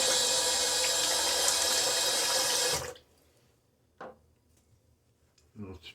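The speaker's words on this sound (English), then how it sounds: "And get my face wet." Running water from a sink tap splashing loudly and steadily for about three seconds while a face is wetted before a shave, then it stops, leaving a quiet room with a couple of brief splashes and handling sounds.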